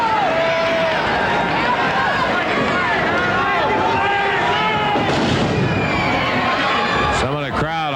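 Wrestling arena crowd hollering during a match, a dense roar of shouts and cheers with a commentator talking over it and sharp bursts near the end.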